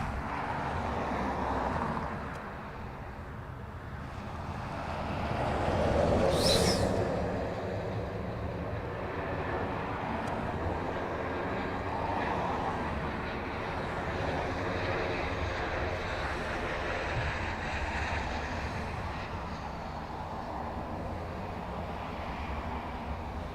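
A Ryanair airliner from Naples passes at Dublin Airport, its jet engines making a broad, steady roar that swells slightly, then holds as a continuous distant rumble.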